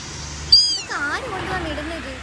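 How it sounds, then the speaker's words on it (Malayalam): A small kitten gives a couple of high, thin meows, one rising and falling, close by over a faint steady hum. "മൂന്ന് പൂച്ചക്കുഞ്ഞുങ്ങളാണ് ആരോ കൊണ്ട് ഇട്ടിട്ട് പോയത്"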